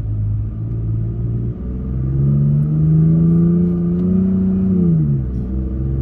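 A Toyota Tacoma pickup in sport mode revs as it shifts through the gears, heard from inside as a loud steady engine rumble whose pitch climbs, holds, then drops at each gear change.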